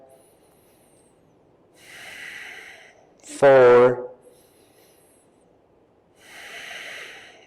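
Two slow, deep breaths taken while holding a hatha yoga pose, each a soft, airy rush lasting about a second. A single spoken count falls between them.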